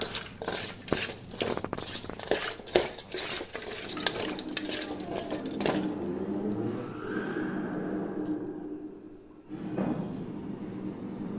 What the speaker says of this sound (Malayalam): ഇനി നമുക്ക് ഉപ്പിട്ട് ഒന്നും കൂടി നന്നായിട്ട് കഴുകിയെടുക്കാം